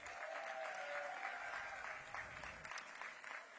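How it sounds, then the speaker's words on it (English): A school crowd at a high school decision day event in a middle school applauds steadily, a faint, distant wash of many hands clapping, with a thin whistle-like tone near the start. "So let's give them a big round of applause."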